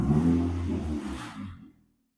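A car engine revs loudly for over a second with steady mid-low harmonics, then tails off quickly into silence; close and alone, no talking.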